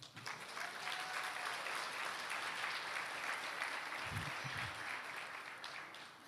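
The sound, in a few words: audience applauding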